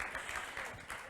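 A short burst of audience applause in a plenary meeting hall, soft and distant, a dense patter of many hands clapping.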